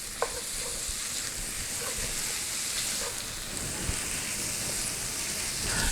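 Sausage browning in a pan for a red gravy, giving a dense, steady sizzle and crackle with occasional louder pops and stirring scrapes, close and continuous.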